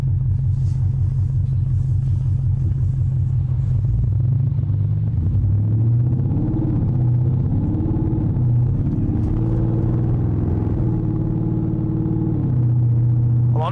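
An 800hp Audi RS7 with a straight-piped exhaust rumbles loudly and continuously, its deep drone rising and falling with throttle changes and revs throughout.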